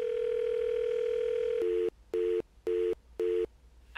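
Telephone line from a classic radio drama: a steady tone gives way to a busy signal, four evenly spaced beeps pulsing with short silences between, faint and alone.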